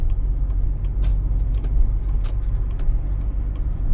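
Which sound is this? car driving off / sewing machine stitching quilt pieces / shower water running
car driving off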